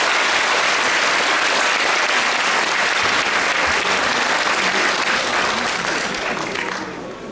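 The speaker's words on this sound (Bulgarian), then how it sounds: "Аплодисменти още веднъж за тях!" A concert crowd applauds first-graders at a Bulgarian school concert for the Day of National Awakeners, with loud, dense, sustained clapping that fades slightly at the end.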